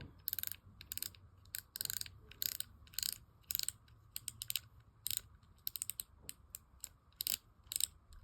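The spool knob of a spinning fishing reel is turned loose by hand, giving bursts of quick, close ratcheting clicks in uneven runs separated by brief pauses, with no talking.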